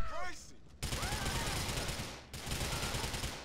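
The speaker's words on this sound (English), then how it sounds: "Oh, I've got an Uzi now." An Uzi submachine gun fires rapid bursts in GTA IV, two long, dense volleys of loud automatic fire separated by a brief gap, with ricochet-like whines mixed in.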